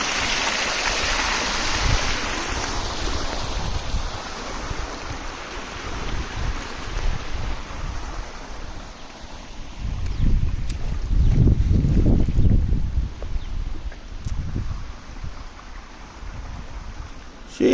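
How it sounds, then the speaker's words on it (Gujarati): Irrigation water from a 7.5 motor pump gushes into a farm field, a close, continuous rushing with deeper surging gurgles that swell midway and then ease. "તો આવી રીતે પાણી ચાલુ કરવાનું, કપામાં જવા દેવાનું આવી રીતે."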